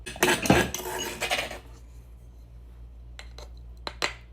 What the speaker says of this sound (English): and some minced garlic. Smash and combine to a paste.